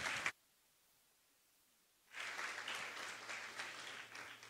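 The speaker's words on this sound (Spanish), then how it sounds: "Fuerte el aplauso." Applause at a regional provincial final event in Panamá Oeste breaks out after a short silence and continues as dense, steady clapping from a crowd, fairly faint and heard from a distance.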